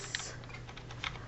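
Two quiet clicks of keys pressed on a computer keyboard, spaced about a second apart over a low, steady background hum.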